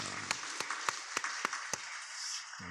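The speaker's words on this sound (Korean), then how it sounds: "잠깐 우리 박수로 맞이해 주시기 바랍니다" Church congregation applauding to welcome a new member, a soft patter of clapping with a few sharper individual claps standing out before it fades.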